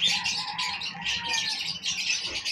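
Many small birds chirp and tweet densely at once at a pet market in Malabon, a busy overlapping chorus with occasional squawks, close and fairly loud with no talking.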